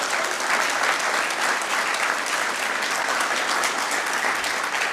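An audience at a school debate finals gives a sustained round of applause, thick even clapping filling the room without a break from start to finish.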